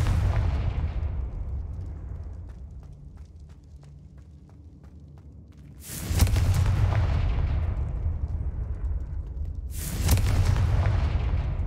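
Two Confringo blasting spell explosions in the video game Hogwarts Legacy, each a sudden loud booming burst followed by a long rumbling decay, with a quieter fading tail from an earlier blast at the start.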